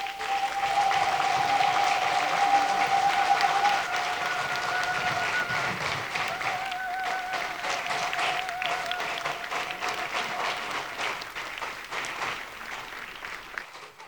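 An audience at an official launch ceremony applauds a speaker being welcomed, a sustained, even wash of clapping from a crowd that holds steady and slowly thins toward the end.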